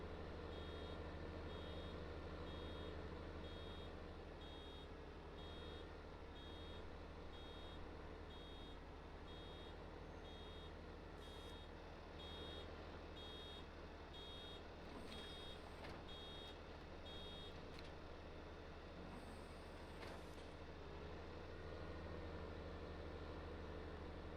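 In Farming Simulator 19, a vehicle's reversing alarm repeats short, evenly spaced high beeps over a low engine drone for about fifteen seconds, then falls silent while the engine keeps running with a few clunks.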